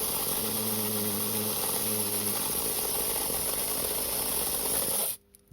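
Magnatraction slot car spinning on a dyno, a steady close whirring motor hiss with a low buzzing drone that runs continuously and cuts off abruptly near the end.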